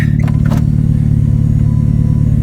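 A Nissan Pulsar GTiR engine drones loudly and steadily close by, a deep rumbling idle with a brief clatter near the start.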